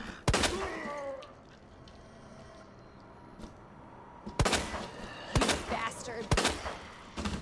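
Gunshots in Resident Evil 2 while playing as Claire: a single sharp shot at the start, then a quiet stretch, then several loud spaced shots with echoing tails near the end.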